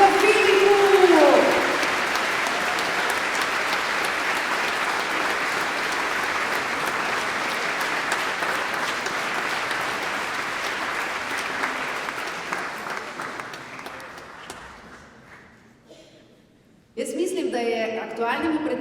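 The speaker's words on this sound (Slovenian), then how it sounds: "predlagam en alt aplavz za dobrodošlico Filipu" Warm applause from a concert audience at a Christmas and New Year wind band concert, welcoming a young alto saxophonist; sustained dense clapping that gradually fades away, followed by a brief burst of renewed sound.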